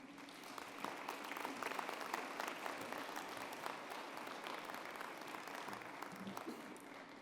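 An audience applauds to welcome a speaker at an evening event, steady sustained clapping from a crowd at moderate distance, with no talking over it.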